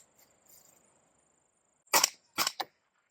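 Suppressed rifle shots through a Siege ROC 556 suppressor: three sharp, close cracks in quick succession, the last two closely paired, after a near-silent lead-in.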